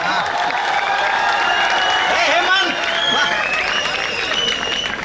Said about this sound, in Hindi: ताली जोरदार बजाइए आप लोग।